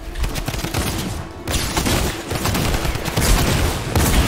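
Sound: gunfire in the video game Fortnite

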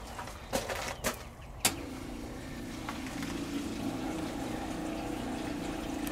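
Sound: RV water pump running, priming

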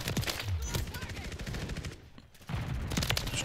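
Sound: SMG gunfire in a video game

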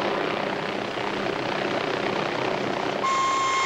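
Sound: Bell 47 helicopter flying

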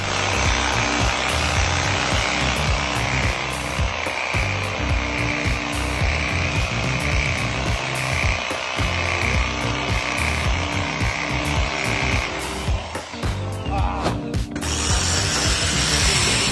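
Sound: reciprocating saw cutting aerated concrete blocks

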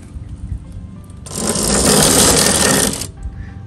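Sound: Vevor 48 volt brushless DC motor running in reverse

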